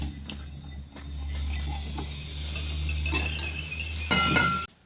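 Egg and olive oil being mixed in a bowl, a utensil clinking and scraping against the sides in irregular taps over a steady low hum.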